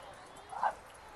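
A small dog wearing shoes at a New York Fashion Week runway gives one short, sharp yip at moderate distance over quiet background noise.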